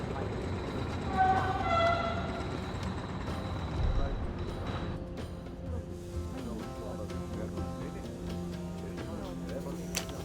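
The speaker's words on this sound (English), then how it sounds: "Is everything aboard the train, Hector?" A train in the Murder on the Orient Express video game rumbles along with steady rolling noise and rhythmic clatter, while a faint tonal whistle-like sound rises early on and voices speak over it.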